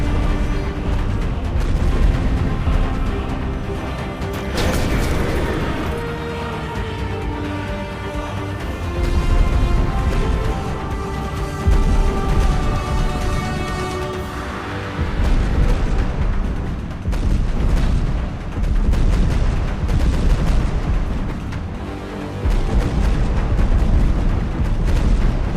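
Repeated explosions and heavy booms from the video game Sky Piercer roll on continuously over a loud, dense game soundscape, with no voices heard.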